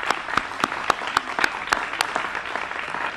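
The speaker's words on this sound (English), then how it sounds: "That is worth applause," Sparse applause at a press event on an electric vehicle program, a handful of distinct, evenly spaced claps from a small group, fairly quiet and a little distant in the room.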